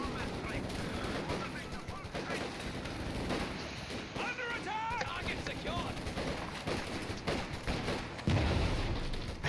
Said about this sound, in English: AT gun opening up on this